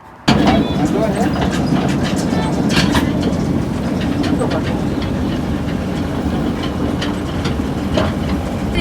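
A mini train ride on rails at a Cheongdo tourist attraction, with steady wheel rumble and faint clickety-clack running throughout, close and continuous, while people chat aboard.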